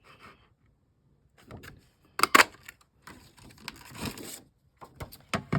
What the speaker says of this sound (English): the 2 1/4 inch punch. And that's what I used on the front too